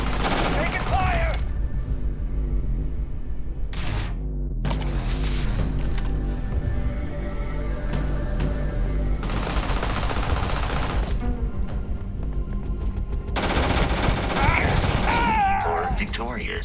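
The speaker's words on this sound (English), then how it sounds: "Taking fire!" Gunfire in the Starfield game, bursts of rapid shots breaking out in several clusters over a steady rumble of action, with voices talking between and under the firing.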